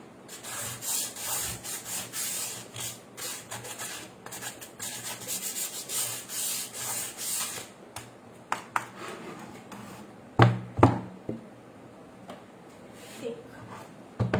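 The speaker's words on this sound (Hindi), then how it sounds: "तो इस तरीके से मैंने इसको घिस दिया है पूरा।" Plywood surface being rubbed smooth by hand sanding ahead of painting a fish mural, a steady scratchy back-and-forth friction for several seconds, then a few sharper knocks and taps as the work pauses.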